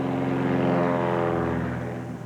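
A propeller plane owned by the Kayapo and flown by a hired Brazilian pilot drones steadily overhead, a loud continuous engine hum with a buzzing propeller tone that fades slightly toward the end, with no voices.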